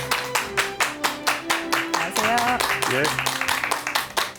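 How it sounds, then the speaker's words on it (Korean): A studio audience claps steadily and rhythmically as a family medicine specialist is welcomed onto the stage of a talk show, with close greetings spoken over the clapping. "큰 박수 부탁드립니다."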